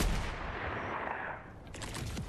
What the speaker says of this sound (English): So I hear sniper.